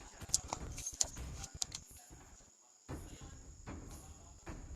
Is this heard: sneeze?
no